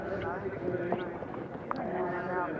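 A horse clip-clops along at a 1983 cross-country event with fences between 3 feet 6 and 4 feet, hoofbeats faint and distant beneath steady commentary.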